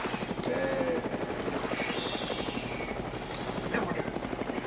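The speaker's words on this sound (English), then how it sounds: "I think this helicopter will go out of space." A helicopter flies over water, its rotor chopping in a fast steady pulse, fairly close and loud, with faint voices talking beneath it.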